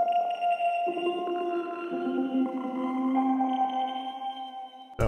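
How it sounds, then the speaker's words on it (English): Soft, shimmering sustained granular piano synth tones layered in gentle chords, with a grainy texture and slowly shifting notes, no voices. "So I pulled up this granular piano and it just sounds like this."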